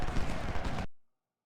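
Gunfire from the video game Ultimate General: Civil War, heard as a dense, loud rolling volley of musket fire that fills the first part and then cuts off abruptly into silence.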